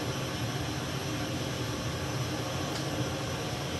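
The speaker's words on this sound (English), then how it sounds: "the Russian Ka-50, which is what this helicopter" Russian Ka-50 helicopter in the DCS flight simulator game, a steady dense broadband rotor and turbine roar with no breaks, moderately loud and constant throughout.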